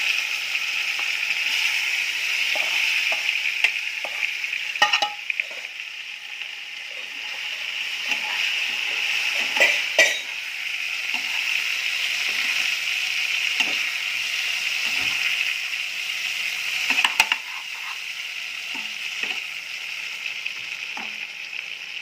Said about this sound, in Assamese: তাৰপিছত কচুখিনি তাতে দি পেলাই অকণমান সময় ভাজিম।